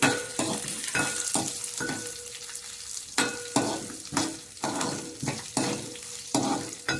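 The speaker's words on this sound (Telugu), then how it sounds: "వెల్లుల్లి కొన్నిటిని బాగా మిక్స్ చేసుకోవాలి" Unpeeled garlic cloves with fenugreek seeds frying in a pan for coriander chutney, a steady sizzle broken by regular scraping stirs and light clinks of the utensil against the pan, close and without talking.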